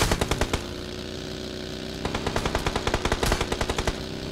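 Rapid bursts of automatic gunfire from an enemy shooting at the player in the mobile battle royale game PUBG Mobile, a stuttering rattle at the start, then a louder, longer volley with no talk.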